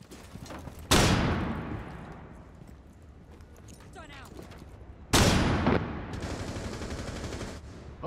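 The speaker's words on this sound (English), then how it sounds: "who's shooting with the Mac 11?" Mac 11 gunfire in Rainbow Six Siege on Xbox One, heard as two loud, sharp bursts a few seconds apart that each fade into a ringing tail, while players talk quietly in between.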